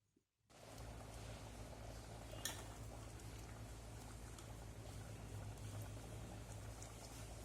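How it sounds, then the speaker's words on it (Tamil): Mutton curry simmering in a pot with chopped coriander leaves, giving a steady, dense bubbling and hiss that starts after a brief quiet moment and runs continuously at even loudness. "இது நல்லா ஒரு கொதி வரட்டும்."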